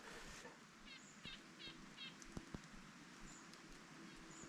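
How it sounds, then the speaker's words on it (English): Nuthatches give faint, repeated short nasal call notes in a few quick bursts in woodland, distant and soft over a low background hiss with occasional rustles. "You can hear those nuthatches now."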